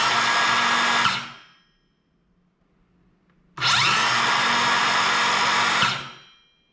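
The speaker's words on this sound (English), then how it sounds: "The important feature to cover from here on is the sort of electronic brake. So it doesn't wind down, but it stops right away." A Bosch GKS 18V-57 cordless circular saw whines loudly at full speed, then its electronic brake cuts it to silence almost at once. After a short quiet gap it spins up again and stops just as abruptly.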